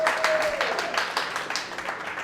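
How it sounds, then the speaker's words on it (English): Small audience giving Sabita a warm round of applause, close, lively clapping from a group of people that stays full and even before tapering slightly. "Give Sabita a nice warm round of applause."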